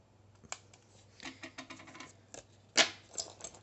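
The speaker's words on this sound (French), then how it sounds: "je viens couper le bout qui dépasse" Scissors trim an excess paper strip on a handmade Halloween coffin mini album: a series of light snipping and paper-rustling clicks, close and quiet, with one sharper crisp cut near the end over a low steady hum.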